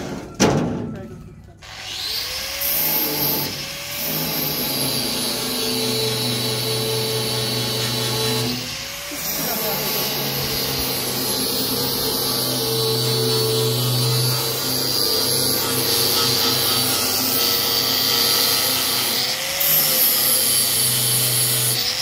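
An angle grinder cuts a scythe rail in a workshop with a loud, steady, high whine that stops briefly and restarts several times, while people talk over it.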